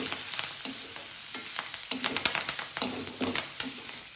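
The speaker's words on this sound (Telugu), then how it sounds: "ఇప్పుడు ఆయిల్లో వేడిగా ఉన్నటువంటి ఆయిల్లోనే కొంచెం పసుపు వేసినట్లయితే రైస్కి మనకు పసుపు బాగా పడుతుంది" Turmeric and curry leaves fry in hot oil, giving a steady close sizzle with repeated scraping stir strokes from a spoon against the pan.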